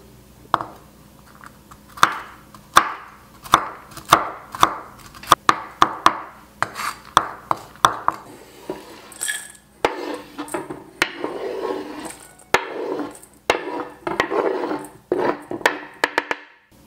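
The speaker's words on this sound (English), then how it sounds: "and then I will chop the nuts" Toasted nuts are chopped with a knife on a cutting board, a close series of crisp wooden thuds that start as spaced strokes and turn into faster, rougher rocking chops and scrapes, with no talk.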